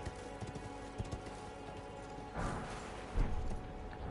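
Horse hooves clopping in the Elden Ring video game, a faint, steady gait under a busy game soundscape, with a louder stamp near the end.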